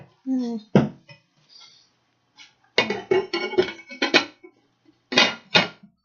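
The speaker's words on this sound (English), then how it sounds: "Oh, lid. We need a lid." A metal lid is set onto a soup pot of chicken noodle soup, giving a few clanks and clinks of cookware, while a person talks briefly in between.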